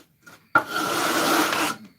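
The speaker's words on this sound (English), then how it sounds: "Now we have it sanded down to a point where all the marker has been taken off." Hand sanding of wood on a guitar fretboard to remove marker, a steady close rasping rub lasting over a second after a brief faint scrape, with no talk.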